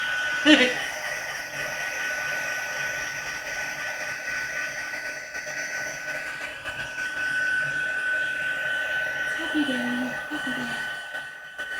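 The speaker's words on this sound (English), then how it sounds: "we're going to take our heat tool to dry this because we want this nice and dry" A heat tool drying a craft project: a steady, close whooshing blower hum with a constant whine runs throughout, and a person speaks over it now and then.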